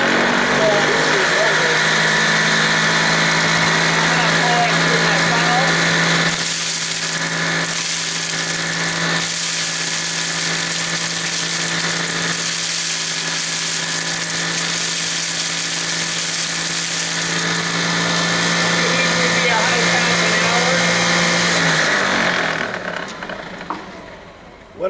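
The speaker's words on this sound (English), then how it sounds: "You heard the motor slow down a little bit" An impact huller driven by a DC motor runs with a loud, steady, close hum and whine, with grinding rattle on top and a brief dip mid-run, before winding down near the end, with a person talking over it.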